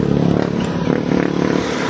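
Motorcycle engine idling roughly and misfiring after breaking down on a mountain road in Solano, Nueva Vizcaya, a close, steady uneven putter with small stumbles throughout, no talk.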